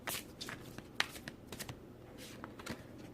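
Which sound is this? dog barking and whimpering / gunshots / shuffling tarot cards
shuffling tarot cards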